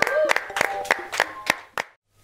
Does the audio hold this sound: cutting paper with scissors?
no